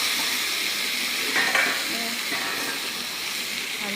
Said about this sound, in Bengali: এবার আলুটা ভেজে নেব ভালো করে